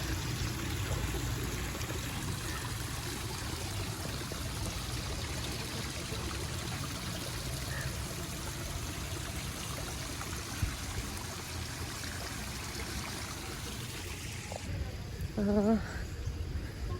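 Cold water flows steadily at the Ratna Mandir former royal palace in Pokhara, a constant, fairly quiet wash that runs the whole time, with a few faint background sounds near the end.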